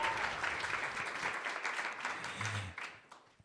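A poetry recitation event audience at the Loft in Minnesota applauds and cheers, a dense wash of clapping that fades out over a few seconds, with no one speaking over it.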